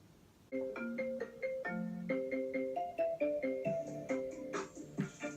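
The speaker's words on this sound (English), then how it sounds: "That is someone trying to call my phone." A smartphone ringtone plays a quick, bright melodic sequence of repeating notes for an incoming call, close and fairly loud with no talk.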